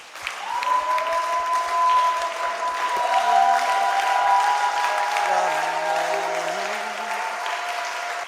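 A church congregation applauding during a Sunday worship service, sustained loud clapping and cheering from a large crowd over several seconds, with voices and a held organ or keyboard tone underneath.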